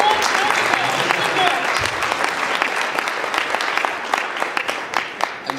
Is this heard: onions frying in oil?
no